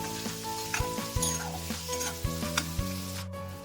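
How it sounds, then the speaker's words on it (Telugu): Chopped onions fry in a pan and are stirred continuously. A bright, constant sizzle is heard with repeated scraping strokes and a faint tonal hum underneath. "ముందుగా కట్ చేసి పెట్టుకున్న ఆనియన్స్ని వేసుకుని కలుపుకుంటూ దోరగా వేయించుకోండి."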